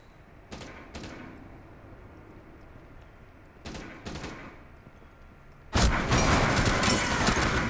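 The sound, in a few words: gunshots in Rainbow Six Siege video game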